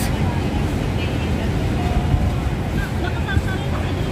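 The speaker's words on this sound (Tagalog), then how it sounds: "Mahangin naman dito, awa ng Diyos." Steady wind buffets the microphone in a constant low rumble outdoors, with faint distant sounds and occasional voices underneath.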